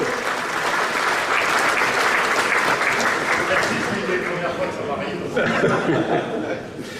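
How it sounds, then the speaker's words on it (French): Audience applause at a 2020 New Year's greetings ceremony for a community of municipalities, a sustained, dense, loud clapping that fills the room for about seven seconds, with some chuckling mixed in and a brief swell near the end. "Vous pouvez l'applaudir, allez, on y va."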